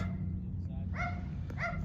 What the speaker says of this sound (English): Rex, you don't have to bark at everything